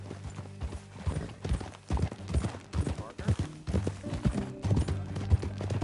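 Horse hooves clip-clop at a steady riding pace in Red Dead Redemption 2, a rhythmic run of hoof beats heard under characters talking.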